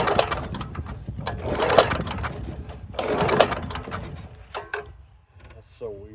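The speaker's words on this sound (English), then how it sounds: "Got a nice backfire out of it." A Sears Roebuck push mower engine sputters in uneven bursts, with loud broadband pops from backfiring and a fading run-down, up close in a garage-like space, with speech partly present.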